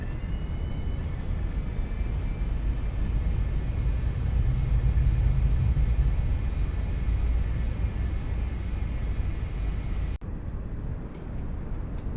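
A small handheld electric screwdriver spins continuously while lapping and seating a valve on a Honda Superdream motorcycle, giving a steady rumbling whir that holds for about ten seconds and then cuts off abruptly, with no voices.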